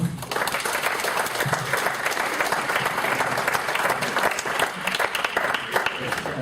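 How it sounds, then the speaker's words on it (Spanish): A university audience applauds to welcome a guest speaker, steady sustained clapping throughout with some crowd murmur and voices underneath. "lo recibimos con un aplauso"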